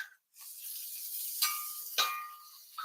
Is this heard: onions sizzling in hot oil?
yes